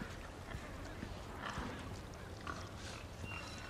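Pig oinks in the Resident Evil 4 VR game, a few soft grunting calls scattered over a steady quiet ambient bed, fairly faint and without talk.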